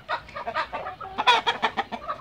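A hen clucks close by in a quick, uneven run of short, sharp clucks, with no other sound and no voices.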